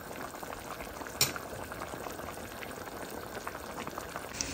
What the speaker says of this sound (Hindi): ये देखें हल्के हल्के ये बबल कम हो रहे हैं साइडों से